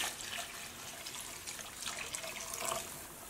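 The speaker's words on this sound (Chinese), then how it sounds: "最后再根据家人的饭量加入适量的清水" Water pouring from a tap into a cooking pot of stir-fried potatoes and carrots, a faint continuous splashing stream with slight fluctuations, no talking.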